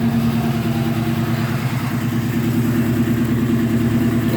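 A 1967 Mercury Cougar with a 390 V8 idles steadily, giving a loud, close, even low rumble with a pulsing exhaust throb and no voices.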